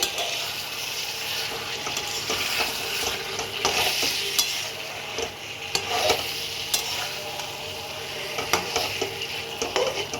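Mutton curry being stirred and sautéed in a pan, a steady sizzle with repeated scraping and clinking strokes of a spoon against the metal, close and fairly loud, no talking.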